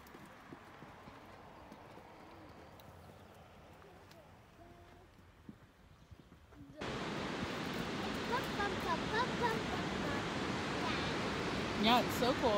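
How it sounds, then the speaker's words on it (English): A waterfall at Yellowstone, a broad steady roar of rushing water that starts abruptly partway through and continues loud and close after a quieter stretch with faint background sounds. "You've never seen this waterfall. It's pretty, huh?"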